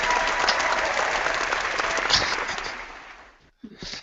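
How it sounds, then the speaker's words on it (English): Loud, dense applause from a crowd cheering two players after a football tabletop game that went to a second overtime, sustained and fading near the end before a brief burst of noise. "let's just give them a round of applause"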